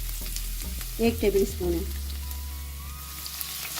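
Crushed garlic hits hot oil left from frying chicken in a kadhai, giving a steady low sizzle that runs through the clip while a voice speaks briefly near the start.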